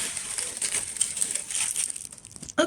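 A crepe paper flower is handled up close, giving steady dry crinkling and rustling for a few seconds that ends in a sharper crackle.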